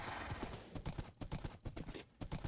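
Horse hooves clip-clop in a steady, uneven walking rhythm, close by and fairly loud, with no talking.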